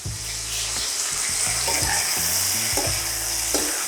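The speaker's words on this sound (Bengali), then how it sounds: "সেই রঙটা অবধি আমি এটাকে ফ্রাই করব" Steady, close sizzling and frying in a pan while the prawn kalia base cooks to a golden-red colour, with a few soft stirring knocks under the hiss and no talking.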